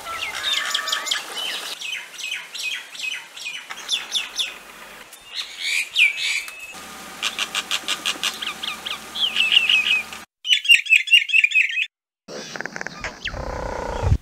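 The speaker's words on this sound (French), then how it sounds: "Il a une palette variée de cris et de chants." Common mynas calling and singing in a varied series of whistles, chatters, rapid trills and harsh notes, loud and close, with short pauses between bursts.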